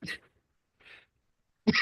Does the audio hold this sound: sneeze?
yes